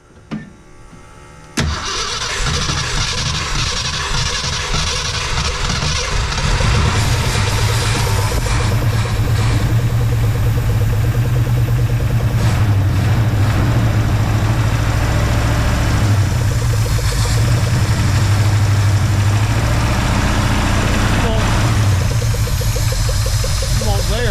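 A 1966 Ford Fairlane with a 390 FE V8 and 4-speed cranks briefly, then catches and runs with a loud, steady, rumbling idle for the rest of the time, with voices faintly in the background.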